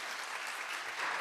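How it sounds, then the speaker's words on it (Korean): Congregation applauding the band during a Sunday church service, a steady wash of clapping from a crowd that swells slightly louder toward the end, with no talk over it. "감사의 박수 한번 하고"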